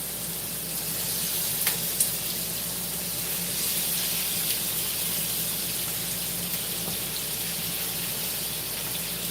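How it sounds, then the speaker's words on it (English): Steak bites in a hot pan for garlic butter steak give a steady, dense hiss and crackle that stays even throughout, close by, with no talking. "we're just going to add our steak to the pan"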